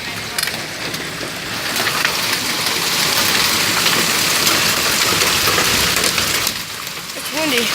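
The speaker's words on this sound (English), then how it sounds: "It's hailing. It's raining. It's thundering." A big outdoor storm of rain, hail and thunder, a loud continuous roar of rain and hail pelting surfaces that swells and holds, with brief voices near the end.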